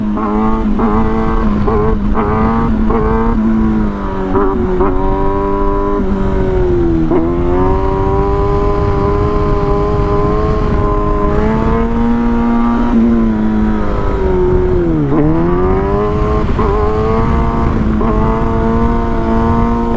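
A car engine in a racing video game revs loudly through the gears, its pitch climbing and dropping sharply at each shift, a continuous close engine roar with no talking.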